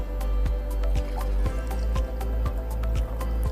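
Packaged branded bottled water trickles into a glass in a steady stream, with rapid rhythmic drips and plops close up and no talking.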